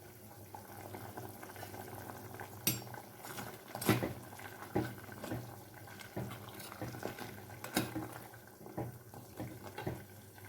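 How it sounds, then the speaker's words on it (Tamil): A pot of vada curry bubbles and simmers softly, with a few sharp clinks of a utensil against metal. "இந்த வடையோடு சேர்ந்து கொஞ்ச நேரம் நல்லா கொதிக்கிட்டுங்க"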